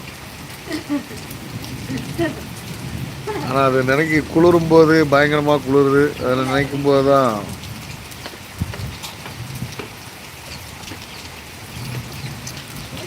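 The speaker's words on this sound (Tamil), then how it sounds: "மழை பெய்யும்போது பார்க்குறது ஒரு அருமையான ஒரு அழகான ஒரு விஷயந்தான்" Steady rain falls in a thunderstorm with lightning at Vallioor, a soft continuous hiss heard throughout while someone talks in Tamil partway through.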